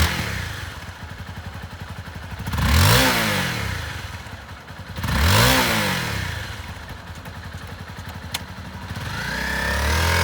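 A used 2012 Honda CBR250R lightweight sport motorcycle idles close by, its engine swelling in two smooth revs before settling back to a steady mid-pitched idle, with no voices.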